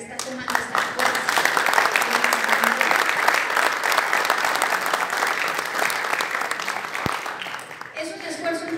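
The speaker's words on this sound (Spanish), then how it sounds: "Quisiera pedir un aplauso" A crowd at a Canirac Manzanillo swearing-in ceremony breaks into loud, sustained applause for several seconds, with a voice resuming briefly as it ends.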